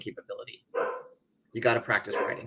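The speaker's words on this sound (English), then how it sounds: "and I want to apologize for my dog." A dog barks in short bursts in the background while someone talks, the barks sitting partly under his speech.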